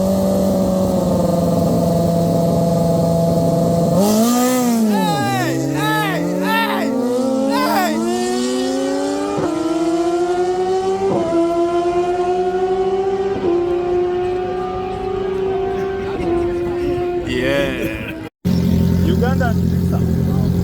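A Suzuki GSX-R1000R drag racing motorcycle launches on a race run, its engine revving up in rising sweeps through the gears and holding a loud, steady high-pitched drone before a brief cutoff, with people talking faintly in the background.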